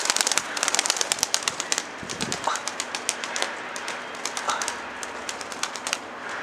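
Pigeons kept in a loft inside a truckers' garage, with rapid wing claps and flutters repeating throughout over a steady background murmur, a few soft coos showing through, close and fairly loud.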